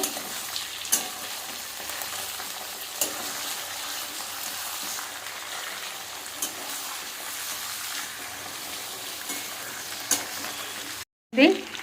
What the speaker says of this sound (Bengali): চিকেন চিকেনগুলো দিয়ে ভালো করে চিকেনটা ভালো করে ভেজে নেবো